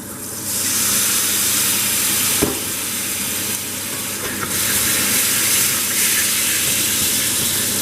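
Calvados brandy hitting a hot pan of liver to deglaze it, a loud steady hiss and sizzle with steamy rushing bursts and a sharp clink partway through, close, with no talk.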